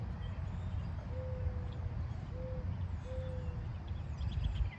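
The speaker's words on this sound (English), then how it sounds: "Owls have one of the coolest noises." An owl calls outdoors with three short, low hoots spaced about a second apart, fairly faint and distant over a steady background rumble.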